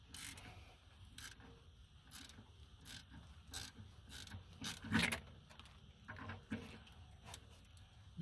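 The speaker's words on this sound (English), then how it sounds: "we're going to take a half inch socket and we're going to unbolt the bracket that's holding" A half-inch socket wrench unbolts the bracket holding a truck's foot brake valve, giving repeated ratchet clicks in short bursts with clanks of metal and some mechanical creaking, close and fairly quiet.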